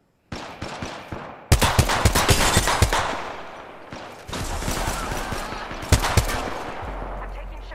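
Enemy gunfire in Apex Legends: sharp bursts of automatic shots rattle close and loud in several volleys separated by brief pauses, with heavy low thumps beneath.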